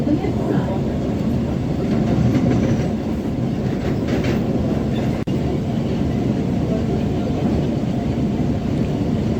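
Kolkata Metro train running between Ruby (Hemanta Mukhopadhyay) and Dakshineswar, recorded on board: a loud, steady rumble of wheels on rails with faint rhythmic clacking, continuous and close.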